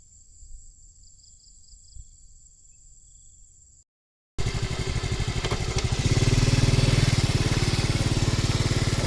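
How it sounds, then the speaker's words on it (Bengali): A motorcycle engine on a hilltop in Malaysia catches after a brief pause and settles into a loud, steady running rumble, revving slightly higher toward the end; faint insects buzz beforehand. "মোটর সাইকেলটা স্টার্ট দিলাম অবশ্য মোটর সাইকেল আওয়াজ আপনারা শুনতে পারতেছেন"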